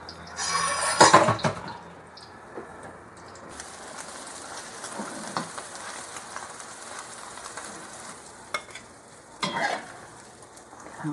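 An egg fries in an iron wok with no nonstick coating, giving a faint, steady sizzle with a few brief louder scrapes and clinks of stirring.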